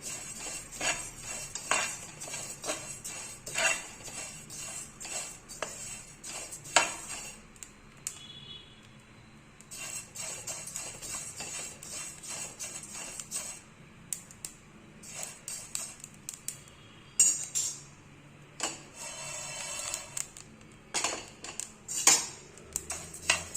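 Light crackling and sizzling of fennel seeds roasting in a pan for a Chettinad mutton masala powder, with repeated metallic scraping and clinks of a spoon stirring, close and steady throughout.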